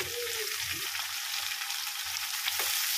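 Sliced bitter gourd sizzles and fries in a pan with a little salt, a close, steady crackling hiss with a few soft stirring scrapes and no talk.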